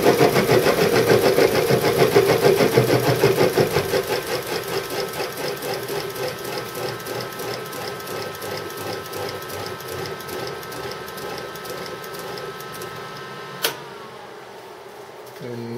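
An axial flux permanent magnet wind turbine generator with 12 poles and 36 slots spins on a test rig, giving a steady whirring mechanical hum that starts loud, eases to a lower level and ends with a brief click.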